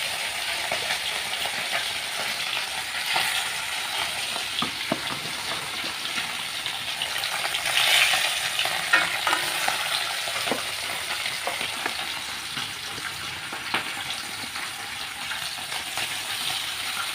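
Food frying in rice oil in a home kitchen, a continuous loud sizzle with the scrape and clatter of stirring throughout, no voices.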